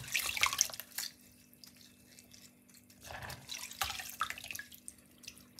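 Running tap water splashes and drips over sea moss being washed by hand in a sink, with bursts of louder splashing between quieter trickling stretches, fairly faint overall.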